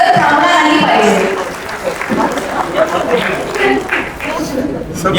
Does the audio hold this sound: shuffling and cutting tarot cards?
no